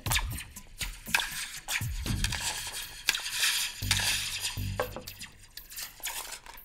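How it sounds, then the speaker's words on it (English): A hard metal spoon strikes a slinky attached to a cup, giving repeated sharp, zapping hits with springy, laser-like tails, close and fairly loud, with short gaps between strikes. "Let's see if we get a different sound if I try hitting the slinky with the hard metal spoon."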